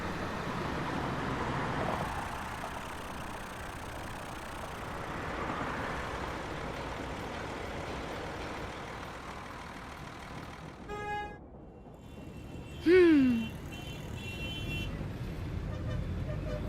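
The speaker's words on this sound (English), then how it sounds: "Those cars sound like they're getting angry with each other." Cars stuck in a city traffic jam during a blackout, with a low roadway hum followed by a couple of short horn toots, one rising then falling in pitch.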